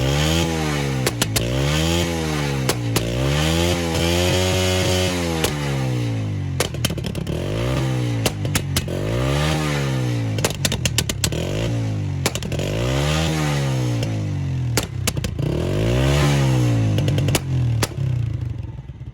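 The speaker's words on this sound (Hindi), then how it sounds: "उसी बाइक के बिल्कुल आसानी से आप पटाखे निकाल सकते हैं। इसकी आवाज़ भी बहुत लाउड है।" A 125cc motorcycle revving near the silencer with its exhaust fire-shot modification, a loud buzzing engine rising and falling in repeated rev cycles, punctuated by sharp popping backfire cracks throughout.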